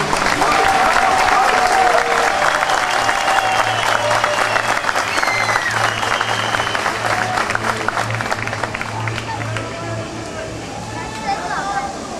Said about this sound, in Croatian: ajmo jedan veliki aplauz